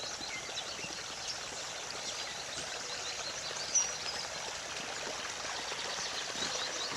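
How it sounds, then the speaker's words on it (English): Storm water runoff flowing along a rural road, a steady broadband rush of turbulent water that holds constant throughout, close by and moderately loud, with no voices. "hear the water as it becomes more turbulent"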